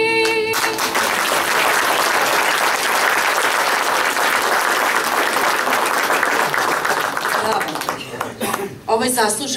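At a formal ceremony, an audience gives an honoree loud, sustained applause that holds steady and then tapers off near the end.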